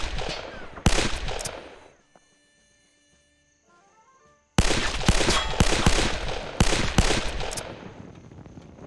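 Pistol gunfire in the video game Men of War Assault Squad 2, rapid bursts of shots in two dense clusters separated by a quiet gap with faint tonal game sounds.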